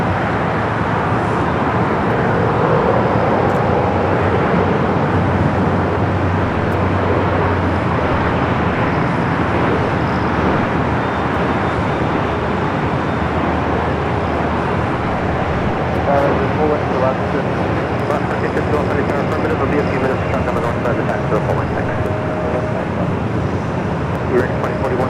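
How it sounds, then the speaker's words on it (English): A Star Alliance Boeing 777-300ER airliner rolls down runway 24 Left at Los Angeles International Airport, bound for Tokyo Narita, making a steady, loud, broadband jet roar that stays constant from a distance, with a voice talking over it. "Flight heading back to Tokyo Narita, the 777 at 300ER Star Alliance, rolling down to 24 left"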